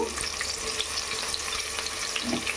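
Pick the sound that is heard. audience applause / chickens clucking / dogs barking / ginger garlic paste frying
ginger garlic paste frying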